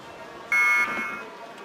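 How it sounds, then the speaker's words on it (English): A single loud electronic race start buzzer at a rowing championship final sounds for about a third of a second over crowd noise and distant commentary. "the buzzer goes and they shoot off the blocks"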